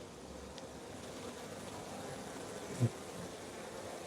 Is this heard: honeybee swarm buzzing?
yes